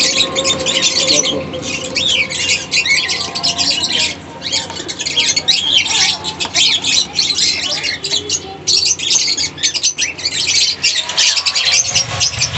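Dense, continuous high-pitched squawks and chirps from many caged birds, including lovebirds, fill a pet shop at once, loud and busy with no pauses.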